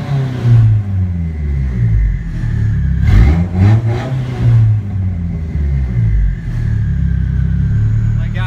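Mazda Miata engine with timing advanced 10 degrees on Megasquirt, idling with a deep rumble and then revved in quick blips around the middle, loud and close, with talk in places.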